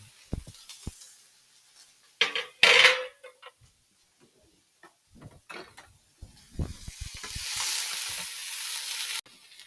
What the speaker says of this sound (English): I'm just going to fry those up and brown those.